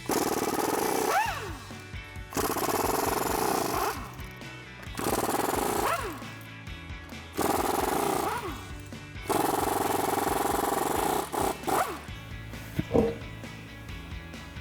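A 21mm socket loosens the front wheel lug nuts on a Mustang GT: four long, loud bursts of impact wrench rattling, separated by short pauses, followed by a few clanks and clicks.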